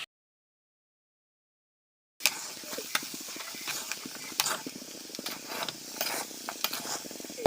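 After a couple of seconds of silence, jackfruit seeds fry in oil while being stirred repeatedly, scraping and clattering in an irregular rhythm over a soft, steady sizzle, close and with no talk.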